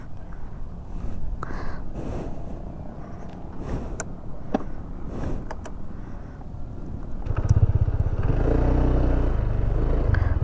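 Honda Click 160 motor scooter being ridden around Catalina Lake in Puerto Princesa, its engine a low steady drone with clatter and wind, swelling louder toward the end.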